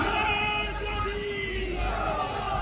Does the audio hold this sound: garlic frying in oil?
no